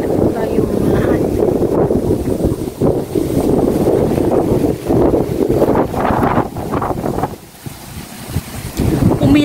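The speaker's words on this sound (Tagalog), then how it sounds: "Ngayon hangin na malakas na. Lumalakas na." Strong storm wind gusts loudly and steadily, buffeting the microphone in heavy rushing bursts that ease briefly before surging back, with a person's voice partly mixed in.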